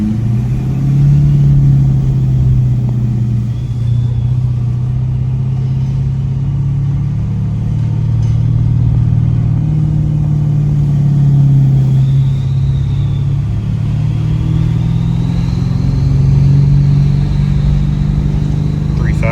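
2018 Ford F350 diesel pickup with compound turbos pulling hard after a downshift to second gear, a loud, steady low engine drone climbing gradually, with a faint turbo whistle rising above it.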